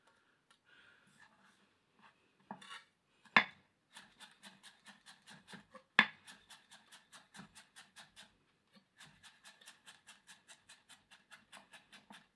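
An American Steel Nexus chef knife chops rapidly through food on a cutting board, giving a steady run of crisp, evenly spaced taps with brief pauses and a couple of louder strikes, close and clear with no talk.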